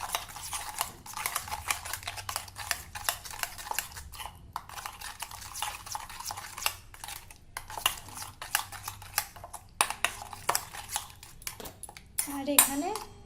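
Hilsa fish being mixed by hand with spice paste and salt in a bowl, giving soft wet squelching and scattered light clinks of a metal dish, close and fairly quiet throughout.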